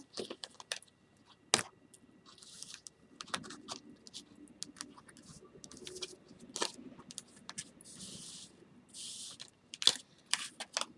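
Tarot cards are gathered up and shuffled by hand, giving quiet, scattered snaps, riffles and soft clicks in irregular bursts, with short pauses between them.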